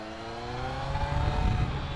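A steady, rumbling Kawasaki Z900 motorcycle exhaust idles and revs lightly nearby in town, a continuous low drone with a slight rise toward the end.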